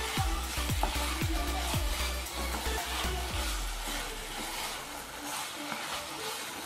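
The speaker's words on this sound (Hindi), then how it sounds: "अब इसे हमें अच्छे से मिक्स कर लेना है" Chinese samosa filling being stirred with sauce in a pan, a few scraping strokes and a soft sizzle up close, fading toward quiet near the end.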